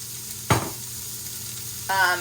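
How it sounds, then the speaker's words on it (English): Olive oil sizzles softly in a nonstick pan as spiced scrambled eggs cook, with a sharp scrape or stir near the start and another burst of frying toward the end. "I'm gonna make some spiced scrambled eggs"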